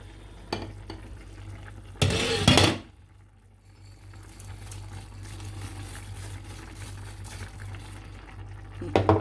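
Quiet bubbling and simmering of rice pudding in a pot, a soft continuous burble with a couple of brief clattering bursts.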